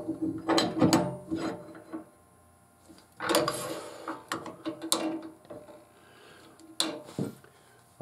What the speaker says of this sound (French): Je vais changer mon porte-outil.